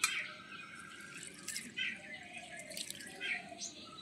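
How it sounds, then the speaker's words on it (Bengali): Gobindobhog rice is washed by hand in water, with faint sloshing and dripping splashes in short irregular bursts, quiet and close. "এই চালটা আমি ভালো করে একটু ধুয়ে নেব।"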